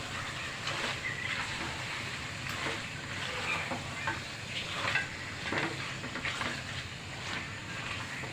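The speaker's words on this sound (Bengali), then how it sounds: "ভালো করে এবার নেড়ে চেড়ে মাংসটাকে ভালো করে কষিয়ে নিতে হবে।" Country duck meat stirred and browned in a pan, a steady broad sizzle with repeated scraping strokes of a spoon running throughout at close range, no talking.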